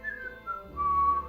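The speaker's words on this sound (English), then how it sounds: "So I whistle to keep my spirits up." A person whistles a brief, clear tune of a few held pure notes, close and fairly soft, with nothing else alongside.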